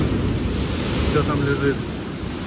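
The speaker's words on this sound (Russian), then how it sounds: "Такое вообще, как будто шторм продолжается. Волна бьет." Storm surf breaking on a beach in Balaklava, Crimea, a steady broadband roar with wind noise, close and fairly loud, while someone speaks over it.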